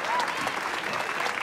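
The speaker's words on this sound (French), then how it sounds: "On les applaudit bien fort." An audience applauds at a Christmas show, a dense, steady patter of clapping from many hands that fills the short moment without pause.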